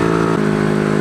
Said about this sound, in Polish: trochę z wydechu się drze